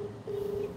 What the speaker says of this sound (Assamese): নিপু তাক ফোন কৰিলোঁ